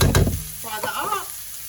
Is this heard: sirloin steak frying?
yes